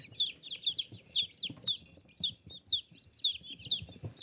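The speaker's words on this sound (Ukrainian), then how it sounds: "Їсти вони поки не їдять бінтамки, але вони тільки вилупилися півдня." Newly hatched bantam chicks, about half a day old, cheep in a steady run of high, repeated peeps up close, with soft low rustling beneath.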